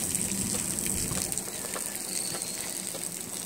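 Water sprays and gushes steadily at an outdoor splash pad, a continuous close hiss and splatter with no pause.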